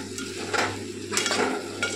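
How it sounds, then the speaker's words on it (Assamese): Pork sizzling in a pan as it is fried and stirred, with scraping strokes of a spoon against the metal over a steady close sizzle. "ভাজি আছো"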